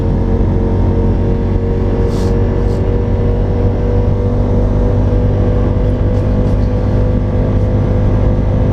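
A V4 muscle cruiser motorcycle engine drones steadily and loudly while riding, with a constant low rumble and wind noise throughout and no speech.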